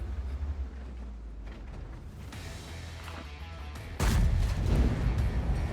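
A heavy tank cannon blast in World of Tanks booms suddenly partway through, following a stretch of low mechanical engine rumble and clanking, with the boom loud and close.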